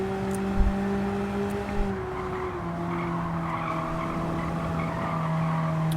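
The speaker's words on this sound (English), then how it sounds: "we're pushing a Honda Beat from the 90s around the Nürburgring" A 1990s Honda Beat kei car pushed hard around the Nürburgring in Gran Turismo 7, its engine holding a steady drone with a couple of brief bumps and tyre noise, no talking over it.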